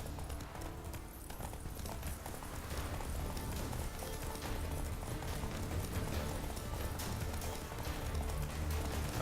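A horse gallops hard in a Witcher 3 race, dense rapid hoofbeats rumbling continuously for the whole stretch amid game sound, fairly loud and unbroken.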